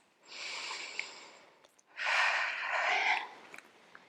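Two slow, deep breaths during a yoga workout with weights, an airy inhale followed by a louder, fuller exhale, close and clear with no talking.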